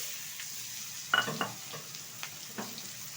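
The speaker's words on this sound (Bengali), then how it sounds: "এখন এই মাছ ভাজার তেলে দিয়ে দিচ্ছি কিছুটা কালো জিরে ফোড়ন, দিয়ে দেবো কুচিয়ে রাখা একটা পেঁয়াজ।" Black cumin seeds and chopped onion dropped into hot oil left from frying fish, a soft steady sizzle with a burst of crackling and several sharp spattering pops, close by and fairly quiet.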